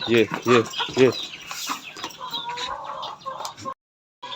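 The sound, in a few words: chickens and rooster clucking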